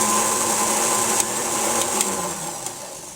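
Steady whirring drone of an electric mixer beating carrot cake batter in a bowl, continuous and fairly loud throughout with a few brief clicks, no talking.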